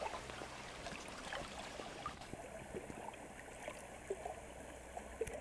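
A water pouch held in a cold autumn stream, with faint continuous rushing and trickling water throughout, low and distant-sounding, with no voices.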